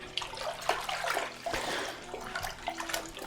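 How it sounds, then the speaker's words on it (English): Water is swirled around in a deep cooking pan for poaching eggs, producing close sloshing and splashing with small bursts and gurgles that rise and fall. "You want to swirl the water around, and then when you drop the egg in"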